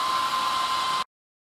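Hair dryer blowing hot air into a Dodge Ram 2500 truck headlight to dry out trapped water, a steady loud rushing whir that stops abruptly after about a second.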